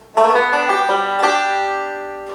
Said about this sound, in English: Next up we have a roll that's very important for this song.